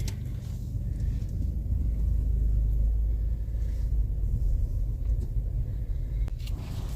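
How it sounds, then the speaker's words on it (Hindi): A car drives along a road at 5 a.m. on a trip to Mukteshwar. Its engine and tyres rumble steadily and loudly, heard close from inside the car, with no one speaking. "बज गए हैं सुबह के 5 और हम गाड़ी में सवार हो चुके हैं"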